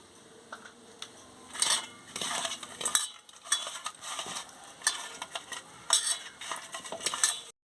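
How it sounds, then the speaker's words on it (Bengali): Salt and turmeric being rubbed by hand onto cut pieces of catla fish in a kitchen, making soft wet squelching and scraping sounds with occasional light clinks of the fish against a bowl, in irregular bursts close by. "এবার আমি নুন হলুদটা মাখিয়ে নিচ্ছি।"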